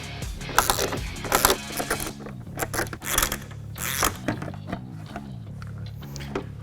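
A ratchet loosens 10mm bolts holding the factory headlamp on a Jeep JL, making quick clicking and metallic turning bursts close by, partly masked by steady tonal background music.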